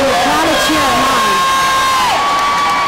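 Crowd cheers and shouts at a CrossFit competition, a sustained roar with whoops and bellowing voices rising over steady background noise throughout.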